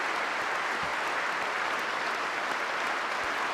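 Sustained, even clapping from a large audience after Queen Elizabeth's Annus Horribilis speech in 1992, a dense wash of applause with no break.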